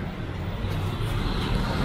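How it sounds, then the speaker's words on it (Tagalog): Sunday road traffic rumbles near Welcome Rotonda, a continuous low drone of car and truck engines passing close by with a steady wash of road noise and no talk. "Medyo kahit linggo, traffic."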